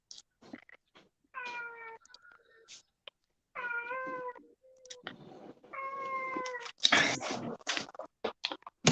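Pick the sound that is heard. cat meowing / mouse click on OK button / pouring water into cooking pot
cat meowing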